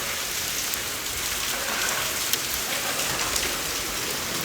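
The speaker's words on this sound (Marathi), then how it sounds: "पाऊस चालू आहे मस्तपैकी, बघू शकता." Steady rain falls outside a shop, a close, even patter of drops on surfaces with a few slightly sharper drips, continuous and unaccompanied by speech.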